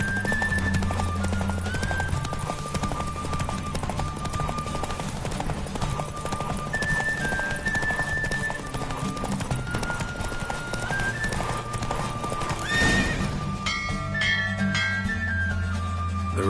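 Horse hooves clip-clop steadily through a race in the game Witcher 3, with occasional neighing and a busy music and ambience bed underneath; a brief burst of louder sound rises near the end.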